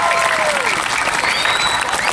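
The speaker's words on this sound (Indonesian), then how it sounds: "Tepuk tangan semua dari kita sama-sama." Balinese drama gong audience at Taman Budaya Chandra Buana in Karangasem bursts into loud, dense clapping and crowd noise, a steady wash of applause with a whistle-like tone gliding through it.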